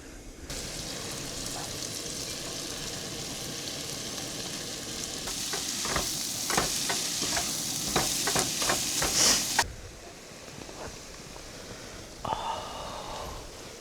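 Potatoes, sausage, peppers, onions and mushrooms fry in a pan at an off-grid camp, giving a steady loud sizzle with clicks and scrapes of stirring through the middle, then dropping quieter near the end.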